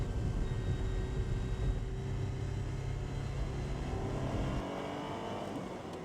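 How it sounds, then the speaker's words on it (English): Ferrari Dino 246 GT classic sports car accelerating hard, its engine a loud, continuous close-up roar that eases slightly near the end. "Acceleration on this car for its age is really phenomenal."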